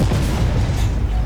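A tank cannon firing in the Armored Warfare video game, one heavy booming shot with a rumbling tail that fills the whole moment.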